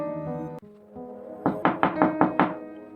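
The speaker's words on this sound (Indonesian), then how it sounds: "terdapat seseorang mengetuk pintu rumah mereka" Knocking on a house door: a quick series of about six firm raps, close and clear, over a steady music bed.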